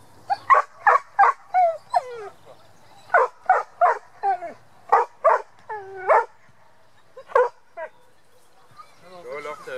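A dog barks in a quick, repeated series of sharp, close yips, with a short pause partway through, and a brief murmur at the very end.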